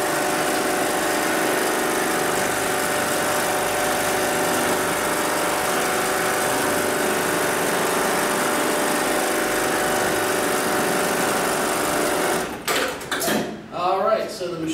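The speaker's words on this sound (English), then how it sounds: "That's going to initiate the sewing cycle." An automatic leather-goods sewing machine runs its sewing cycle with a steady, dense mechanical whir that holds evenly for about twelve seconds, then breaks into a few clattering stops and knocks as it finishes.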